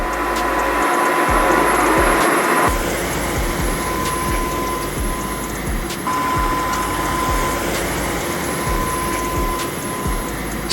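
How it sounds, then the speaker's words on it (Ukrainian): A Dreame H15 Pro Heat wet-dry vacuum mop whirs continuously up close, its motor humming steadily under a stream of rapid mechanical clicks and ticks. "Розкладаємо пилосос та натискаємо кнопку, і він пірнає під меблі сам"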